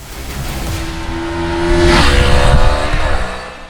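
A 2024 Kawasaki Ninja 500 motorcycle engine revs loud and close, its pitch climbing as it accelerates and then shifting before pulling on again, with no talking.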